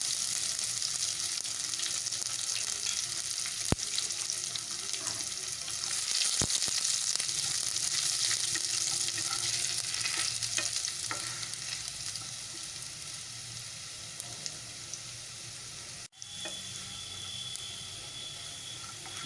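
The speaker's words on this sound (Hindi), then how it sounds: "अब डालेंगे इसमें अदरक और लहसुन।" Ginger and garlic sizzle steadily in hot oil with cumin and asafoetida in a pan. The frying is continuous and close, with occasional clinks of a spoon and a brief sharp knock, and no talking.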